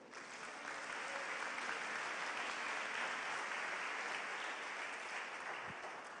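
Congregation at an Assembly of God church applauding during a Sunday school lesson, a sustained wash of dense clapping that holds steady and fairly distant for several seconds.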